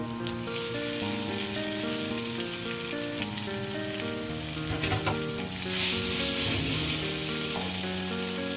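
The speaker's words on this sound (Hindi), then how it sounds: "मसाले अच्छे से इसमें मिक्स हो गए हैं और ये अच्छे से भुन भी गया है" Grated boiled potatoes and peas fry with spices in a hot pan, a dense, steady close sizzle with occasional stirring scrapes and no voices.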